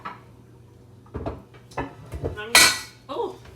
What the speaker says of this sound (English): Let me get a baking dish.